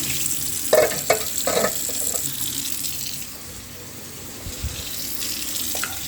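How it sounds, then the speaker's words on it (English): Running water from a kitchen tap as containers that held vegetables are rinsed out while chicken noodle soup is made, a steady close wash with a few sharper splashes and clatters early on. "I could rinse these out."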